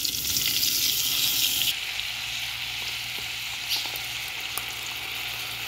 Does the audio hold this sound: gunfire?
no